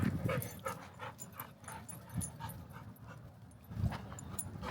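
A goldendoodle puppy panting, whimpering and yipping softly at close range, a few short bursts over quiet background, with no talking.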